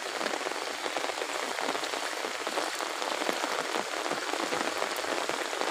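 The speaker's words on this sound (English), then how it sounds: "It's actually summer, but the rain started in between the summer." Summer rain falls outdoors among lush green trees, a dense, steady patter of drops hitting surfaces, even and close with no pauses.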